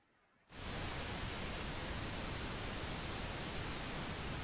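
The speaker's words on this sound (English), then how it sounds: "This is the onboard oscillator just bringing pink noise directly into a channel." A steady, dense hiss of pink noise from a mixing console's onboard oscillator switches on abruptly after a moment of near silence and holds constant at an even level.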